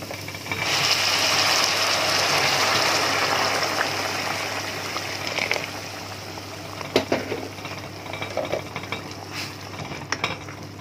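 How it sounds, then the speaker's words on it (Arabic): Hot water from a kettle hits oiled rice frying in a pan, making a loud rushing hiss and sizzle that gradually settles into softer bubbling crackle with scattered pops. "بحط بقى دلوقتي الميه السخنه، ميه سخنه من الكتل."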